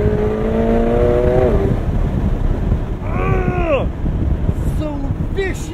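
A McLaren 720S Spider with twin-turbo engine revs and shifts through gears, its exhaust popping sharply off throttle, all under heavy wind roar from the open roof at speed.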